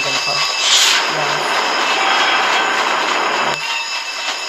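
A train rumbles past in the Roblox Jailbreak video game, a loud sustained rolling roar with a brief bright screech, then dropping off near the end.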